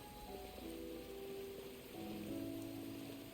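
Steady rain falls in the video game Genshin Impact, a soft, even patter that holds through the clip alone, with faint sustained musical tones beneath it.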